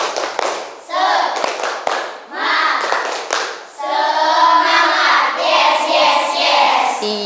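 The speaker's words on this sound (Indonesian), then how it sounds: "Coba kita semuanya tepuk semangat terlebih dahulu." Schoolchildren at an elementary school perform rhythmic 'tepuk semangat' clapping, bursts of patterned claps alternating with their chanted voices in a loud, close classroom group.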